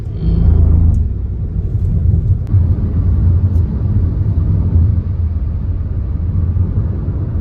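Dense road traffic heard from inside a moving car on a trip toward Alibag, a loud continuous low rumble of engines and tyres with a few faint clicks and no talk.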